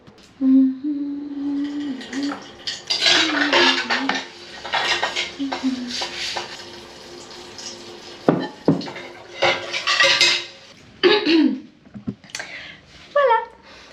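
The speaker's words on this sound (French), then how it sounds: "Avec mon petit kit à vaisselle, l'éponge réservée à cet effet et le petit truc de vaisselle, on est bon." Dishes are washed with a sponge: plates, pots and cutlery clink and clatter in irregular bursts, with scrubbing and rinsing between knocks, close by and without speech.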